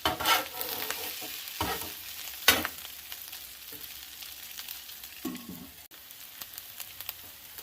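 Stuffed hash browns fry in butter on a Blackstone griddle, a steady close sizzle broken by a few sharp scraping stirs and clanks of a spatula on the flat top.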